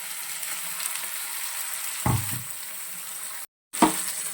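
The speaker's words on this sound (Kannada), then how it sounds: "ಸೊ ಇದು ನೀಟಾಗಿ ಸ್ವಲ್ಪ ಫ್ರೈ ಆಗಲಿ" Ground masala paste for paneer tikka masala sizzles steadily in a hot pan, a constant close hiss broken by a couple of stirring scrapes and a brief dropout.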